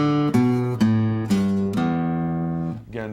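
An acoustic guitar plays a scale of single plucked notes in a steady, slow sequence, each note ringing clearly and alone, starting on the low sixth string.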